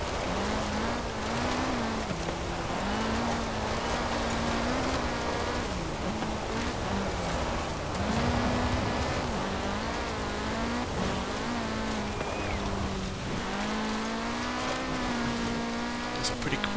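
A 1974 Honda Civic RS engine drones and revs through gear changes while driving offroad in Forza Horizon 4, the pitch rising and dipping steadily for several seconds, with someone talking over it.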